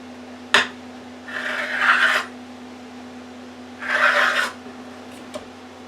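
Rolled-out pie crust dough is cut into strips on a work surface, heard as a sharp tap followed by two separate soft scraping, rasping strokes, each lasting about a second, over a low steady hum.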